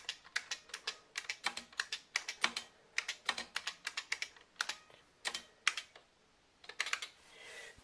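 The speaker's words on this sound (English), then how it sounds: "I just need to type on that some more." Rapid clacking keystrokes on an IBM PC XT keyboard come in uneven bursts with short pauses, fairly quiet and close, with nothing else in the background.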